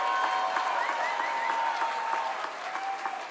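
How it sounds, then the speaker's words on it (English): Audience applause for Rossana Rodriguez at a Chicago Teachers Union rally with Bernie Sanders, a brisk, continuous crowd clapping with a faint tonal hum underneath, lasting a few seconds. "Give her a round of applause"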